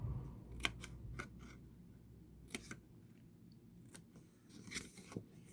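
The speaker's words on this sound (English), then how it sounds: "You're going to turn and cut it the same way" Scissors snipping paper for a handmade shadow gift box cover, faint quiet cuts and crisp clicks spaced irregularly, with light rustling handling in between and no talking.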